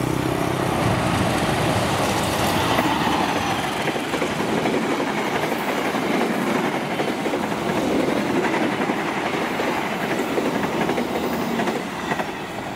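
The Fajar Utama passenger train rolls past on the railway, a loud, steady roar of wheels and carriages with rhythmic clatter sustained close by throughout, no voices.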